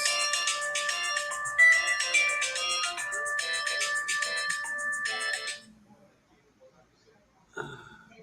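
A phone ringtone plays a repeating electronic melody in steady bursts for several seconds and then stops, followed by quiet and a brief voice.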